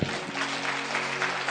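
A congregation claps steadily during a Punjabi-Hindi Christian sermon, a moderately quiet, continuous patter of many hands with a faint tonal hum underneath and no speech.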